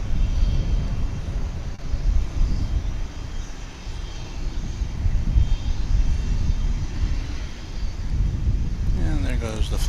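An airliner departing DFW International Airport for Tucson, a steady low jet engine roar held at a distance through the whole stretch, with wind rumble and a person talking over it.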